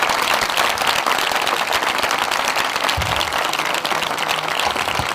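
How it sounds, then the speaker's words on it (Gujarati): A church congregation in Vajharda, Songadh, Tapi keeps up loud, continuous clapping that fills the room without a break. A low voice murmurs briefly partway through. "એવી તાળી પાડો કે પરમેશ્વરનો અભિષેક આપને ઉપર આવે"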